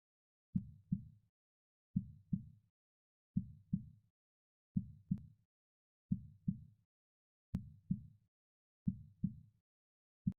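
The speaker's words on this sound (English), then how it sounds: "Okay, yeah, that's Yakumo's heartbeat." Yakumo's heartbeat in NU: Carnival is a soft, deep lub-dub pulse repeating about eight times at a slow, even pace, close and isolated against silence.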